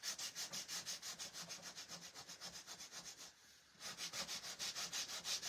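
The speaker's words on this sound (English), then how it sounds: "If you don't have a little sander like this, then you could definitely take it to your garage and use an actual bigger sander" A small handheld sander works over a wooden Easter craft piece, giving a close, rhythmic scratchy rubbing with regular strokes, a short pause midway, then resuming.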